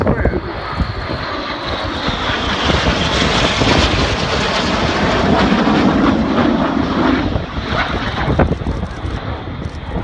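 Red Arrows jets fly a corkscrew manoeuvre, two aircraft inverted, at the 2016 Cosford air show: a loud, sustained roar of jet engines rising and swelling overhead with wind buffeting the microphone and announcer commentary over the top.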